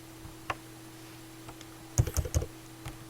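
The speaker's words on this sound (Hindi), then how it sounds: "मैंने कीबोर्ड के ज़रिए से Ctrl+C एक साथ दबाया" Computer keyboard keys pressed for Ctrl shortcuts while copying text in MS Word 2013, a few sparse clicks and then a quick cluster of firm key taps, close and clear, with no talk.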